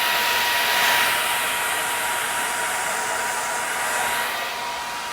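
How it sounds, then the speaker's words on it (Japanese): A handheld hair dryer blows steadily while drying someone's hair, a loud, unbroken whooshing roar that dips slightly near the end, with no talking. "最近手慣れてきたね、 ドライヤー。"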